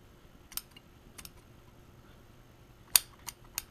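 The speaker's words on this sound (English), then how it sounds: "These aren't really good scissors that I normally use." Scissors trim the end of braided fishing line being spooled onto a reel, giving a few sharp, quiet snips spread across a near-silent background, with the clearest cut near the end.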